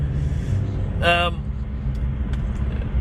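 Road traffic rumbles steadily around a pedestrian, a low continuous wash of passing vehicles with a short sharp hiss of an air brake bursting out about a second in.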